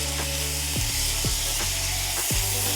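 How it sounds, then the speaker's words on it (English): Vegetables sauteing in a pan for crawfish etouffee with Cajun seasonings, a constant bright sizzle with a few scraping stirs of a utensil against the pan, close up and without talk. "Let's saute all of this up."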